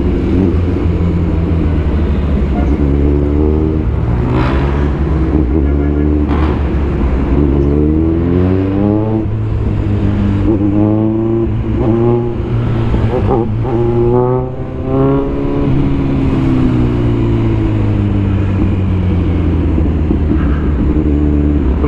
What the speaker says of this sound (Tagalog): Medyo traffic dito sa Marcos.